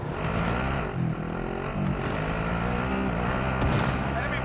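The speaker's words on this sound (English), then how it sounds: "Attack chopper carrying cash" Attack helicopter in Call of Duty: Modern Warfare hovering overhead, a steady droning rotor and engine roar with a rising whine near the end, under a busy game soundscape.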